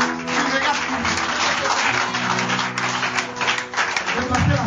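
A church congregation at a worship service of testimony and healing applauds and cheers continuously, dense clapping rolling on beneath a loud voice speaking.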